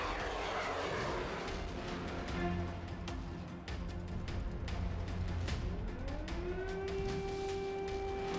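A Shahed-136 drone's engine drones steadily and loudly throughout, a continuous buzzing propeller hum with rising tonal whine toward the end, with no talk.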